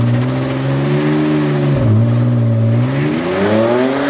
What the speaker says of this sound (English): Let's go ahead and do a quick little burnout.